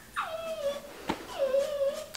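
A puppy whimpers in two drawn-out, falling whines separated by a short pause, fairly close and alone with no talk, indoors.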